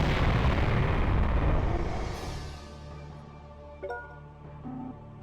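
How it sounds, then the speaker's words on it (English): Bombs go off in The Legend of Heroes: Prophecy of the Moonlight Witch, a loud rumbling blast that decays over a couple of seconds into quieter tonal game effects and a brief chime. "I'll use my bombs on it."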